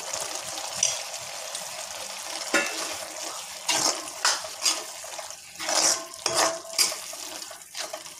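Tomatoes sautéing with boneless mutton and chilli powder for mutton thokku, a soft steady sizzle broken by several wet scraping stir strokes of a spoon in the pan.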